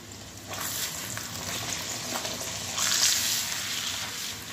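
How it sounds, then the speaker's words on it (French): Beef for a tajine browns in a pan, a steady close sizzle that swells louder midway as the meat is turned, with faint scrapes throughout. "je vais retourner ma viande"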